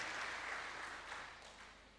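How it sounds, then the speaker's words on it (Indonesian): An audience claps steadily at a graduation ceremony, a faint continuous patter of many hands that holds for about two seconds before gradually thinning out. "Tepuk tangan atas nama Mbak Yeni Ertika"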